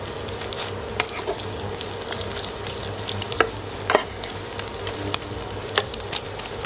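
Salted turnip and egg stir-fry in a hot pan, a close, continuous sizzle punctuated by crisp pops and the scrape of a spatula tossing the mixture.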